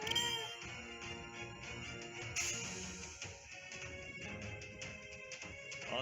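A pet cat, just up from a nap, meows a few times through a busy background of game music and effects, the cries close but partly buried under the louder soundtrack.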